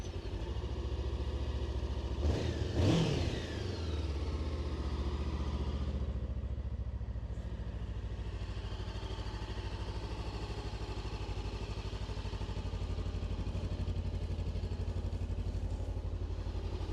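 A Honda CBR400R motorcycle with 14,000 km on it cranks and fires up, then settles into a steady, even idle close by, with no talking.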